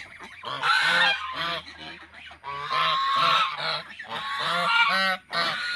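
A white goose honks repeatedly at night in loud, close bursts, its calls coming in a rapid, uneven series with brief pauses between.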